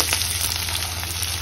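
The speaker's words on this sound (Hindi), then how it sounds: "लहसुन हमारा ब्राउन होने वाला है।" Garlic fries in a pan ahead of onions for chilli paneer, with a continuous close, bright sizzle and faint crackles throughout and no voices.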